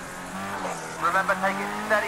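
A Formula Rookie race car in Project Cars 2, with a 100-horsepower engine, revs and wavers as it pulls away, a steady, buzzing drone that rises in pitch, with a voice talking over it.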